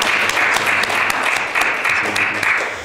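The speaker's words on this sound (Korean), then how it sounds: "우리 박수로 환영하시겠습니다." A church congregation claps together to welcome visiting guests during a Sunday service, a steady, full round of applause from the room with a few sharper individual claps standing out.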